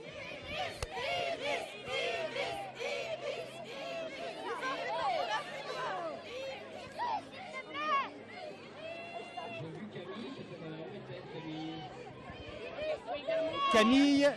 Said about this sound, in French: Ah, vous entendez la foule là? Allez, plus fort!